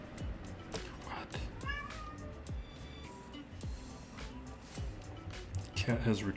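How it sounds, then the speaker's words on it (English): A cat meows nearby a few times with short rising calls, heard under a person's ongoing talk. "Cat has returned from adventures."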